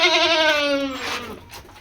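A goat that has just given birth gives a single drawn-out, wavering bleat, close and fairly loud, tapering off after about a second.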